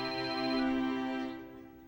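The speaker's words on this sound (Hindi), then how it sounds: "पहले फोन तो उठाओ" A phone rings with a steady, bright electronic ringtone that holds its pitch for about a second and a half and then fades, heard alone in a quiet room.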